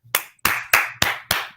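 Five sharp hand claps land in a slow, even rhythm. They are close and loud, each with a short decaying ring, and no voices can be heard.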